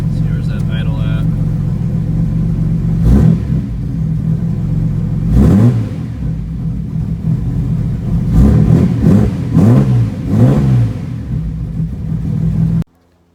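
A Datsun 280z engine runs close by, settling into a steady, rough idle with a low hum and a few revs climbing and falling. Someone talks briefly over it before the engine cuts off at the end.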